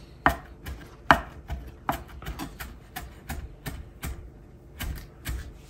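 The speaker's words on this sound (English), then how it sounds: "We're just going to give it a quick rough dice." Knife rough-dicing fresh cilantro on a cutting board: sharp, evenly spaced chopping taps, about a dozen strokes in a quick steady rhythm, close and clear with no talk.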